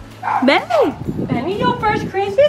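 A dog gives yips and bow-wow barks with whimpering tones close by, mixed in with excited human talk throughout.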